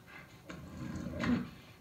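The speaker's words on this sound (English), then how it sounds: "What the hell happened to the dog?" Quiet panting and soft whimpering from a dog in The Last of Us Part 1 video game, a few breathy bursts over a low background.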